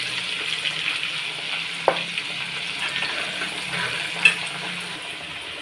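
Roughly 200 grams of garlic and some ginger sizzle in a hot pan with a steady hiss and a couple of sharp clicks from stirring, no voices.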